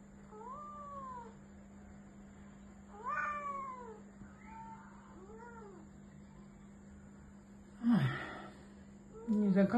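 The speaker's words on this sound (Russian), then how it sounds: "Уже слышу, когда мяу, мяу." A cat that climbs up high meows repeatedly at close range. There are several drawn-out, rising-and-falling meows in a quiet room, followed by a couple of louder rustling bumps near the end.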